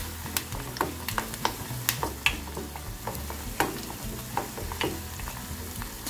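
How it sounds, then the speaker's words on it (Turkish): Onions frying with tomato paste in a pan for a börek sauce, a steady close sizzle with repeated sharp scraping and clicking of a utensil against the pan, with no talking. "Bir 5 dakikada salçayla beraber soğanlarımızı kavurmaya devam edelim."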